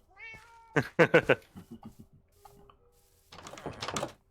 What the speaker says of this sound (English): How did that cat meow and purr at the same time?